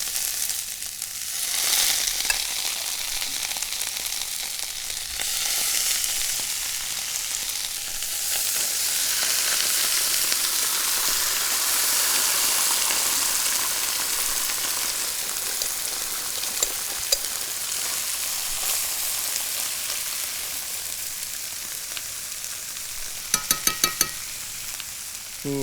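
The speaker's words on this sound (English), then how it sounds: "the pan is nice and smoky. Maybe too smoky. And now listen to the beautiful sound" Food sizzles and crackles loudly in a very hot, smoky pan while a ziti bake is browned, a dense continuous hiss like heavy rain that swells and eases, with a few sharp clacks of utensils near the end.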